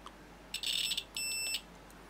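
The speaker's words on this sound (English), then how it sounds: "So we should have a beep when I touch the white," A continuity tester emits two shrill electronic beeps as its probe touches a white wire in a small electronics project, the first brief and wavering, the second a steady tone lasting about half a second, over quiet background.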